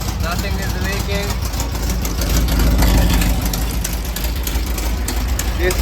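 A 1968 Baja Bug's engine runs steadily in top gear with the axle spinning, a loud, constant mechanical hum and whir up close while a person talks over it.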